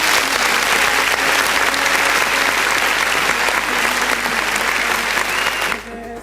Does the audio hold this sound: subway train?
no